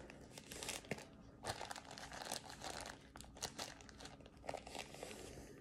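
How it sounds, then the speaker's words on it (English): A plastic zip-top bag crinkles and crunches steadily as it is zipped shut and pressed flat to push the air out, close and continuous with no talk. "you zip it up, try to get any air that's in it out."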